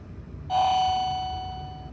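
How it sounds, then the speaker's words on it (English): An MCE hydraulic auxiliary elevator at Hobby Airport in Houston, Texas sounds a single bright, bell-like arrival chime. The chime rings loud and close, then slowly fades over about a second and a half against a quiet hum. "That is the most hilarious sounding chime I've ever heard."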